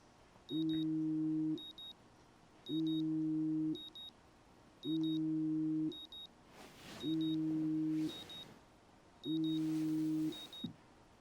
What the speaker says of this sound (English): I don't even understand how the hell that alarm wakes her ass up.